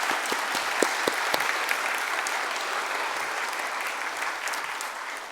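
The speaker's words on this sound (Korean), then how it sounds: "감사의 마음을 담아서 박수 부탁드립니다." Attendees at a university's 34th founding anniversary ceremony give a steady round of applause for the foundation chairman, a loud, continuous crowd clapping that holds evenly throughout with a few sharper individual claps near the start.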